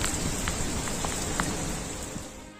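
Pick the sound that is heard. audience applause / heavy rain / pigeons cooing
heavy rain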